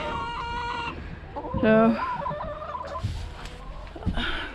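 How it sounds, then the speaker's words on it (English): Chickens cluck inside their coop, with a few close, loud squawks and calls in quick succession. A voice speaks briefly over them. "hopefully you can see our chickens. I have them in their coop part"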